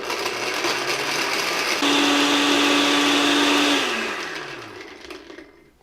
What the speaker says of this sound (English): we're going to throw the walnuts and the basil in here and just kind of chop those up a bit. So in they go, turn that on